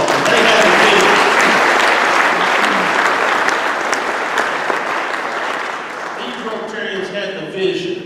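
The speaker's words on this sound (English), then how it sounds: "Let's give them a round of applause." A Rotary foundation dinner audience breaks into loud, dense applause that fades gradually toward the end, with some voices and cheers mixing in.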